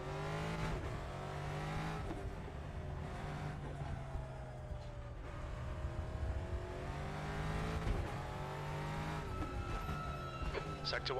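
A Ford Mustang race car engine in the RaceRoom racing game rises and falls through gear changes, revving hard under acceleration with a steady droning tone, while a voice talks over it.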